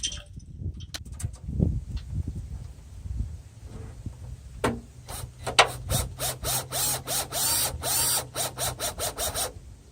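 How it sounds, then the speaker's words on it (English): A center screw being driven through a folding tailgate table tray on a Jeep JK rear door, first some handling knocks, then a rapid run of sharp ratcheting clicks from a driver, close and loud. "you're going to have your helper hold up the tray while you install the center screw."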